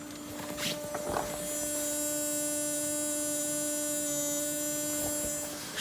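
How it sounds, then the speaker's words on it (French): A steady electrical buzz from a faulty white relay in the fuse box of a BMW E36, holding a constant pitched hum close to the microphone for the whole stretch. "C'est au niveau de la boîte à fusibles. C'est ce relais."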